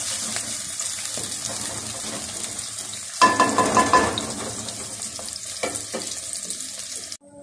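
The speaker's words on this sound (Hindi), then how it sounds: "जैसे हमारे प्याज ब्राउन हो गए तो अदरक लहसुन का पेस्ट डालती हूँ।" Ginger garlic paste hits browned onions in a hot pan, bursting into a louder sizzle mid-clip with stirring scrapes over a steady frying hiss that cuts off abruptly near the end.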